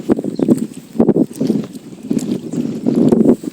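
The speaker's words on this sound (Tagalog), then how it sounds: "Sobrang ano kasi hangin." Wind buffets the microphone in heavy, uneven gusts at a fishing spot near Metro Manila, with low rumbling bursts coming and going close up.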